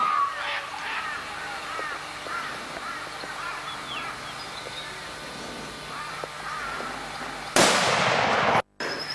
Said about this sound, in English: Good shot, mate.